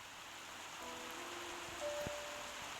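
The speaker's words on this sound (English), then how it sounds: "Lunar, why is it raining harder?" Steady, even rain hisses throughout at moderate loudness, with a faint tonal hum and a brief soft thump partway through and no talking.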